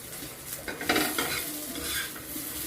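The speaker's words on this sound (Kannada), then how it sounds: "ಸೊ ಇದು ಈ ಥರ ಒತ್ತೊತ್ತಿ ಹುರ್ಕೊಂಬಿಡಮ್ರಿ ನಮ್ಗೆ 2 ನಿಮಿಷ." Chopped onions for a chutney pressed and roasted in a hot pan, a steady sizzle with scraping strokes of a spatula swelling briefly in the middle, close and alone.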